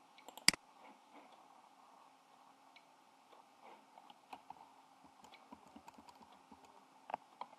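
Quiet, irregular clicks of keys pressed on a computer keyboard, one sharp louder tap at the start, then scattered soft keystrokes at an uneven pace, close and faint in a quiet room.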